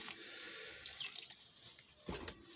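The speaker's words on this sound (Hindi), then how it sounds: "हम इसको ज़्यादा पानी नहीं करेंगे, थोड़ा सा पानी करेंगे।" Water runs and splashes from a tap into a pan for chicken liver curry, a soft steady trickle with a few drips and a heavier pour near the end, heard alone and fairly quiet.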